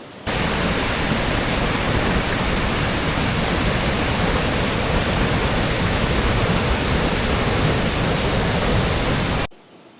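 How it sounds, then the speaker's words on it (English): Rhaeadr Ddu waterfall cascades over mossy rocks in a forest, making a dense, constant roar of rushing water that stays loud and even for nearly ten seconds before cutting off. "These beautiful cascades here."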